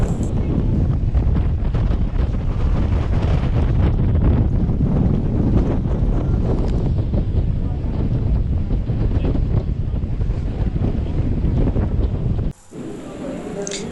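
Strong wind buffets the microphone on a boat ride out to a prison, a loud continuous roaring rumble with engine and water noise underneath, cutting out abruptly near the end.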